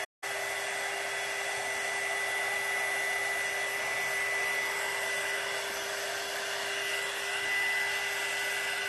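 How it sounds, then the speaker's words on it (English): A heat gun blows hot air over decoupaged scrapbook paper on an Easter cross, a steady high-pitched whirring hiss that runs close and unbroken after a sharp click on. "So we're going to go ahead and hit this with the heat gun again."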